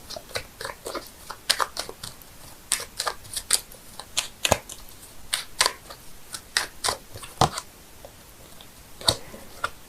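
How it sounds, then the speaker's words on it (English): Rapid crisp flicks and snaps of tarot cards being shuffled, a dense irregular patter with no voices. "I'm shuffling the cards here"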